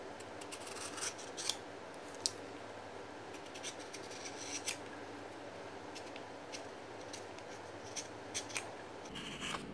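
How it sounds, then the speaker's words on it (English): A blade trims excess material along the edge of a shoe insole in a quiet room, with soft, irregular slicing and scraping strokes and faint background hum. "right now I will need to cut the extra following the edge."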